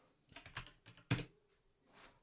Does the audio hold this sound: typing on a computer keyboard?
yes